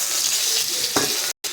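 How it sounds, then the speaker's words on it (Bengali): Fish pieces fry in hot oil with a steady hiss and crackle, close by, interrupted by a brief clatter and then a momentary cut in the sound. "মাছগুলো উল্টে দিয়েছি, আর কি পিসটা ভাজা হবে।"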